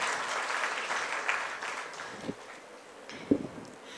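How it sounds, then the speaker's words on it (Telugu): A church congregation claps in praise during a sermon, a sustained wash of applause that swells and then thins out, with a few louder claps near the end. "చప్పట్లు కొట్టి దేవుని స్తుతిద్దాం"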